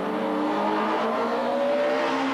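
Race cars in a 1998 Belgian Procar touring-car race, including a Honda, produce a loud, continuous engine drone with steady tonal harmonics and no speech.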